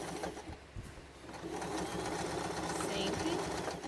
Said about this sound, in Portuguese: E aqui tu vai passar uma costura de segurança.